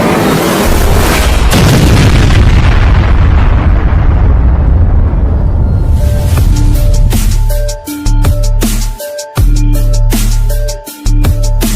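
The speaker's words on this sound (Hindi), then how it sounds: "तीनों बाबा भाइयों ने मिलकर महल उड़ा के ममीज को जलाकर खत्म कर दिया है" A cartoon explosion blows up a palace with a long, loud roaring boom that rumbles and decays over several seconds, followed by a run of sharp, choppy bursts and crackling pops that stutter on and off until the end.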